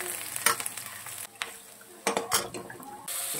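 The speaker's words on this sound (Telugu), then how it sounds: "బాగా కలుపుకోండి ఫ్రెండ్స్." An onion, ginger, turmeric, salt and chilli mixture is stirred in a frying pan for fish curry, with scraping spoon strokes and clinks against the pan over a steady close sizzle.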